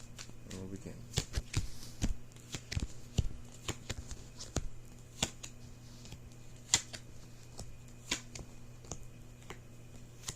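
Tarot cards shuffled by hand, heard as a steady run of soft, sharp clicks and riffles at close range with a faint low hum underneath.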